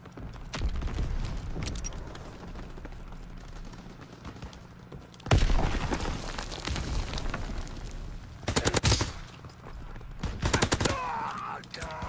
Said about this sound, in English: The gun I'm using currently right now is the MP40